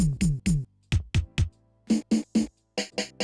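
A programmed reggaeton drum pattern of punchy kicks and toms with bright crisp hits, played in quick rhythmic groups with short pauses between, made in Studio One 5.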